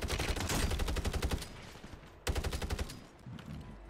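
Rapid bursts of gunfire in Call of Duty Warzone, loud and close, in two dense volleys with a short quieter gap between them.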